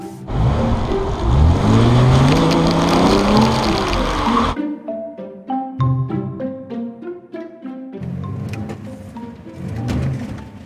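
A Holden Commodore VXR with traction control switched off, its engine revving hard and climbing in pitch for several seconds, then dropping into rhythmic gear-change pulses and revving again, loud and close with no talk over it.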